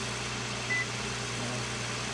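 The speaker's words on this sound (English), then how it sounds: "there's the engine" A Toyota Sienna minivan's engine runs after finally starting, a low steady idle hum with a faint brief higher tone partway through, moderately quiet and close, with no talking.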